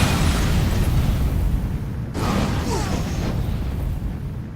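Hellfire spell explosions in the Age of Wonders strategy game, a loud continuous rumbling roar of fiery blasts with a sharp burst midway, dense and close.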